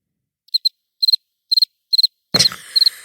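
Crickets chirp in short, evenly spaced double pulses, clear and close against silence, with one brief rough burst of noise partway through.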